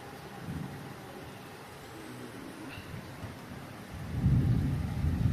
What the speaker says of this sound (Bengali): এভাবে বৃষ্টি পড়তেছে।